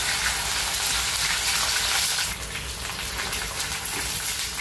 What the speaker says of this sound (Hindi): इसे हमें मीडियम टू हाई फ्लेम पे ही फ्राई करना है।